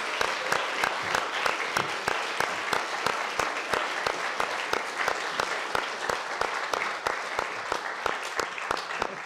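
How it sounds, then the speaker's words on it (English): Thunderous, prolonged audience applause fills a conference hall, a steady dense clapping with sharp individual claps standing out, loud and continuous throughout with no talking over it. "it deserves, as they say in Korean publications from North Korea and in the old publications from the old Soviet Union, thunderous, prolonged applause"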